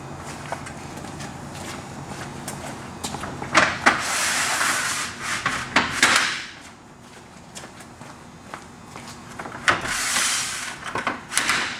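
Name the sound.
sliding and locking an awning arm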